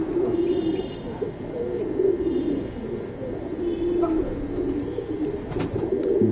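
Soft pigeon cooing, low murmuring calls repeating steadily close by, with a few faint bird chirps above and no talk.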